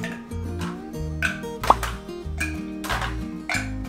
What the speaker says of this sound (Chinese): 就加冰块。